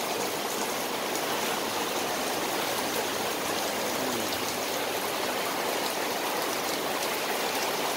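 Heavy downpour from Typhoon Kristine in Mabuhay Golden City, where flooding has begun: a dense, steady roar of rain that stays loud and unbroken throughout, with no voices.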